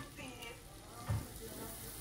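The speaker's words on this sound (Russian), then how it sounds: "И буду жарить яйца." Eggs fry in butter in a new non-stick frying pan, giving a soft, quiet sizzle with a brief stirring scrape.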